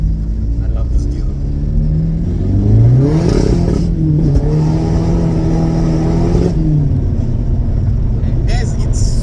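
A diesel car engine accelerates up close, its low rumble climbing in pitch with a rising rev and holding a steady drone before easing back, loud throughout with no talk over it.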